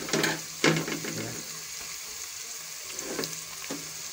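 Chopped capsicum and chicken sizzling and frying in a hot pan for Hakka noodles, with a steady sizzle, a few louder stirring scrapes near the start and later.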